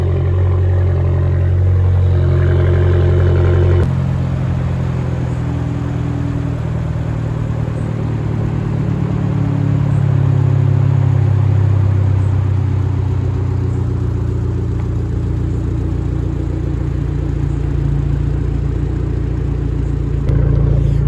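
An Abarth with a Monza exhaust idles on a cold start, a loud, close, steady low rumble with a faint metallic clatter running underneath, an abrupt shift in tone early on, and no talking.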